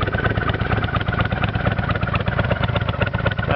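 A Kawasaki VN800 motorcycle idling on choke, a loud close rhythmic engine putter with a slightly rough, clattery pulse that holds steady throughout, with no voices.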